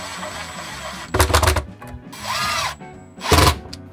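A power driver runs screws in to mount an electrical box for a tool trailer's transfer switch, with two short, loud whirring bursts separated by a softer whine, close up.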